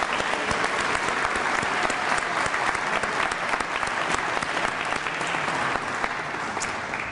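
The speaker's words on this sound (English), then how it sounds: "One more big round of applause and congratulations for the class of 1968" A ceremony audience gives the Class of 1968 sustained, dense applause, with many hands clapping loudly and continuously throughout.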